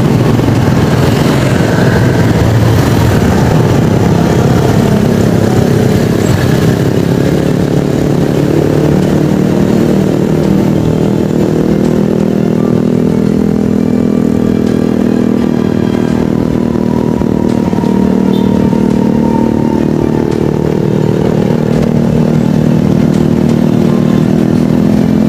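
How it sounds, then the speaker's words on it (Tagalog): Motorcycle riding in a bus lane by the GMA Kamuning MRT3 station in Quezon City, its mid-pitched engine drone steady and continuous amid loud surrounding street traffic, with no talk. "May motorsiklo dun sa loob oh, sa bus lane."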